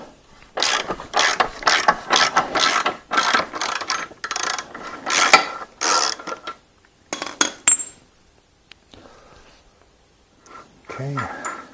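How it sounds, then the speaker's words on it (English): Ratchet wrench loosening the chain adjusters on a Royal Enfield Interceptor GT 650 motorcycle, rapid close pawl clicking in repeated bursts with short pauses, and a few metallic clinks near the end. "loosen off your chain adjusters"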